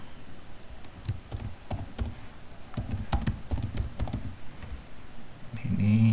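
Close keyboard typing during coding, a run of irregular clicky keystrokes with scattered louder taps over a faint background hum.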